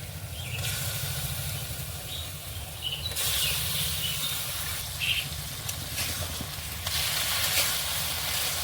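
Potato balls drop into a pan of hot sauce on the stove and sizzle steadily, with a continuous frying hiss and a few brief louder spatters, quite close.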